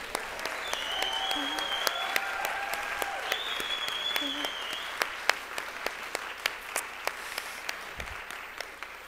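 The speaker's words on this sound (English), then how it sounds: "So we're going to clap again for Kimberly." An audience applauds Kimberly Robinson at the launch event of the Education Rights Institute, soft, scattered clapping heard at a distance with a few sharper claps near the mic, while sustained tones and a brief voice sit underneath.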